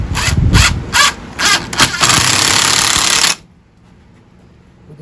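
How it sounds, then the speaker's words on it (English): A power drill with a paddle bit bores into a fallen tree branch clamped in a vise, whirring in several short bursts and then one long sustained run before cutting off to near silence. "So we're using a paddle bit to drill out a hole."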